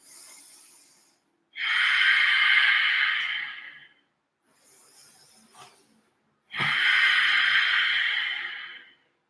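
Deep audible breaths during a vinyasa yoga flow, alternating long loud exhales with softer inhales, each lasting a couple of seconds. The breathing is close and airy, with no talking in between.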